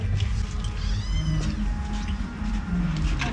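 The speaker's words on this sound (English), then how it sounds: "Dog and cat fighting." A cat yowls and caterwauls in a tense, drawn-out cry during a dog and cat fight at a rural home in Guinea-Bissau, loud and continuous over the whole moment with no talk.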